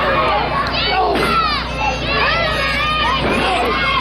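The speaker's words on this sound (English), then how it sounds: "feeding off the chants of the crowd as they chant, Ethan, Ethan!" Loud crowd at an outdoor pro wrestling show at a West Virginia town street fair, cheering and shouting continuously, with children's voices prominent and rising bursts of yelling throughout.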